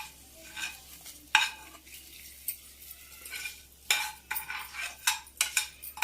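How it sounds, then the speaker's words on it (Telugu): A hot tempering is stirred into salted curd, making a series of uneven scraping stirs with a light sizzle. The strokes are close and come in irregular bursts, with no talking. "ఈ పెరుగులో కలిపేసుకుందాం ఈ తాలింపు."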